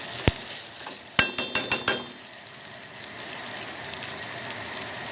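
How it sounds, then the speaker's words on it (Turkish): Grated garlic frying in oil in a small pot, a steady close sizzle with a quick run of sharp utensil clicks near the start before the hiss settles. "tavamın yanında küçük bir tencerede sarımsakları yağın üzerine koydum"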